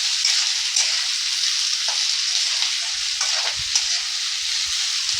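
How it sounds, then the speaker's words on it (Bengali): Grated vegetables with red and green bell peppers frying in a pan for upma, a steady bright sizzle with occasional stirring scrapes, close and continuous. "এটাকেও একটু ভালো করে একটু ফ্রাই করে নেব।"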